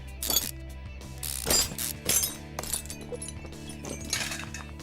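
An inner tie rod comes off in Car Mechanic Simulator 2015 with a string of metallic ratcheting clicks and clanks, set over a low background hum.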